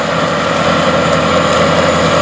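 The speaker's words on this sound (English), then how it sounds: "MT855 with those Chem Farm tanks and the drill putting the wheat in through the corn stalks." A 460 hp Challenger MT855B tractor pulling a no-till drill planting wheat through corn stalks, a loud, steady engine drone with dense mechanical vibration close by.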